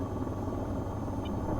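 Steady helicopter rotor and engine drone from an AH-94 attack helicopter in the combat flight game VTOL VR, a continuous close rumble with no breaks and no talking.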